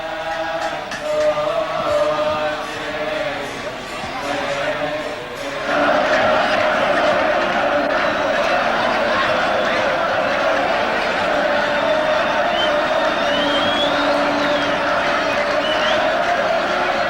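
Dense murmur of a large crowd at a Coptic Christian ceremony in Egypt, with deacons in white and priests in black amid incense; steady, close ambient chatter that swells louder partway through and holds.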